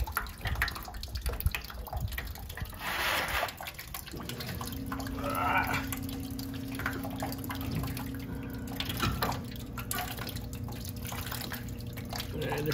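Rusty water drains out of a 1974 AMC Javelin engine block with a steady trickle and dripping, faint and close, while people talk quietly in the background.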